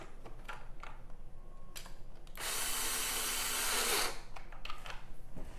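A power driver runs in one steady burst of about a second and a half to screw in anchor nuts, amid quiet clicks and handling noises before and after.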